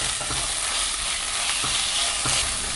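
Steady, close sizzling of ginger garlic paste frying in a hot pan for vegetable mushroom biryani, with occasional stirring scrapes and no voices.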